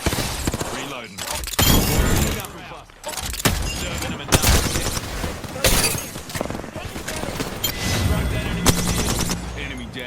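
Gunfire in an esports shooter video game comes in dense loud bursts and rapid volleys with shattering and impact crashes, nearly continuous across the stretch, with voices briefly heard amid the shooting.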